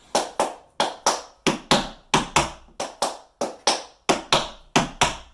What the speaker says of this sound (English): Let's just do that tap step ball change.